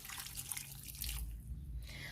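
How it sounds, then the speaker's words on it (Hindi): A small amount of water is poured over mutton in a cooking pot, a soft low trickle and splash at fairly faint level with kitchen background noise. "हम इसमें बहुत थोड़ा पानी ऐड करेंगे जिससे ये हमारा गोश्त ज़्यादा गले ना।"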